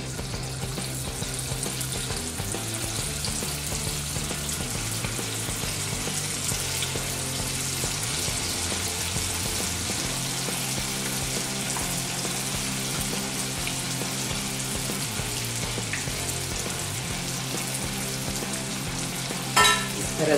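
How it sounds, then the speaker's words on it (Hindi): Vegetable manchurian balls deep frying in hot oil, a loud, continuous bubbling sizzle that runs steadily throughout, with a short knock near the end and no talk. "ये सभी बॉल हमने फ्राई करके लिए"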